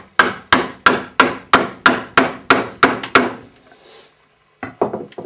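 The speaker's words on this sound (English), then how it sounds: "Now when you're cutting a mortise, you work from one end to the other, and then you can come back down this way, reversing the chisel" Mallet blows on a mortise chisel cutting a mortise in wood: about ten sharp, evenly spaced knocks at close range, then a brief scraping pause and a few lighter taps.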